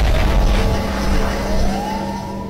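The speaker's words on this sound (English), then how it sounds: "That's the sound of the police!" Police siren wailing amid loud traffic and engine rumble, a steady tone rising in pitch toward the end, close and dominant over the noisy street.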